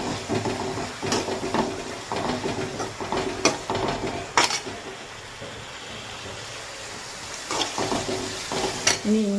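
Chopped garlic sautéing in a hot oiled pan for kotthu parotta, a continuous sizzle broken by sharp clanks and scrapes of a spatula stirring against the metal.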